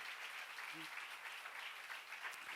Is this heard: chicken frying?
no